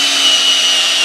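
Drill bit boring a deep hole into thick plywood for a workbench fixture plate, a steady high whirring grind that holds constant and close throughout, with no talk.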